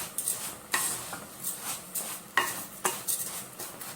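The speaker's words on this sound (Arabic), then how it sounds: "لازم يتحور كويس جدا يسخن الرز مع الشعريه" A spoon stirs rice and vermicelli in a hot pot, scraping in sharp irregular strokes close by over a faint sizzle, with no talk.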